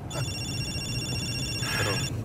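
A telephone rings loudly with a bright electronic tone in two bursts, the second near the end, alone in a quiet room without talk.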